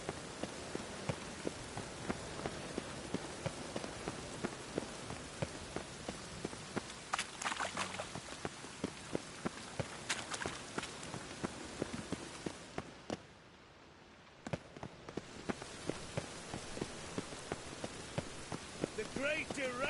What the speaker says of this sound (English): I love the air after a good rain.